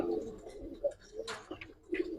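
Silver-coloured Giribaz pigeons coo softly nearby, low throaty murmurs repeating in short, uneven bursts with a few faint higher chirps mixed in, no talk over them.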